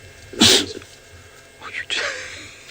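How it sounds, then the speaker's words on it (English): A wild leopardess gives a sharp, loud sneeze near her cub, a brief burst followed by a second quieter sniffing snort a moment later, with faint background sound in between. "She just gave that little one the biggest fright by sneezing."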